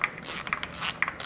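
A ratchet on a wobble extension working an intake manifold bolt on a Nissan 240SX S13/S14 KA engine gives quick, close clicking and rasping bursts, short irregular pawl ticks over about a second.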